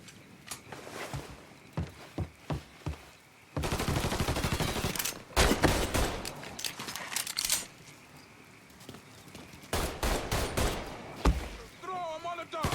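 Rapid gunfire bursts and single shots from a Mafia 3 shootout, loud and dense, with clusters of cracks and sustained volleys amid shouting voices and scattered clatter.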